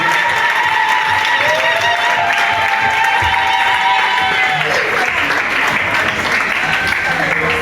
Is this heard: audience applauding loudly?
yes